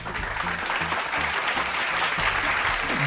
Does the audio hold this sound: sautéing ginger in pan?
no